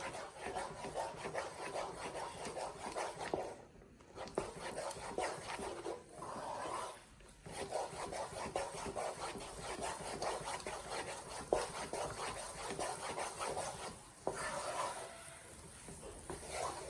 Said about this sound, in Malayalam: ഫ്ലെയിം ഓൺ ചെയ്ത് ഹൈ ഫ്ലെയിമിൽ വെച്ച് തന്നെ നമുക്ക് ഒന്ന് മിക്സ് ചെയ്തെടുക്കാം